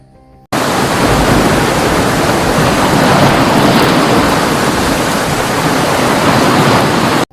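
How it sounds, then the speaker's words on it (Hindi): Sudden storm at sea as a story sound effect: a loud, steady roar of wind-driven waves and rushing water that starts abruptly and fills the whole stretch without pause, with no voices. "फिर थोड़ी देर बाद अचानक समंदर में तूफान आ गया।"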